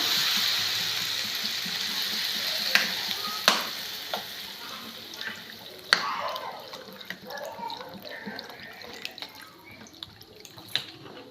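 Lentils and sago with vegetables and added water stirred in a pan, a soft wet bubbling simmer with scattered spoon clicks and scrapes, close and moderately quiet.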